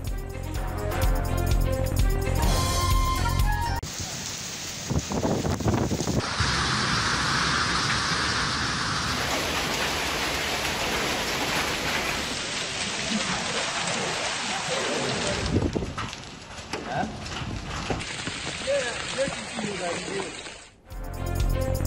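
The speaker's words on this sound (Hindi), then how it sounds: "रावलपिंडी इस्लामाबाद के मुख्तलिफ इलाकों में तूफानी हवाओं के साथ मूसलाधार बारिश और झालाबारी।" Storm winds with torrential rain and hail across Rawalpindi and Islamabad, a loud, dense roar of downpour that cuts abruptly between outdoor scenes.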